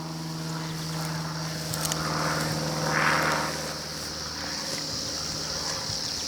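A light aircraft drones overhead above the African bush as it tracks a rhino, a steady engine hum that swells briefly as it passes nearest and then eases back to a constant level.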